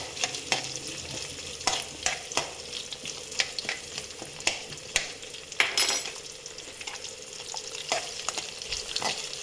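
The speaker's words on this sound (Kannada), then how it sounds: "ಒಂದು ಆನಿಯನ್ನ ಕಟ್ ಮಾಡಿಬಿಟ್ಟು ನಾವು ಈ ಒಗ್ಗರಣೆಯಲ್ಲಿ ಸೇರಿಸ್ಬೇಕಾಗತ್ತೆ" Chopped onion frying in a sambar tempering over medium heat, a steady sizzle with repeated sharp clinks and scrapes of a spoon stirring the pan, close and alone.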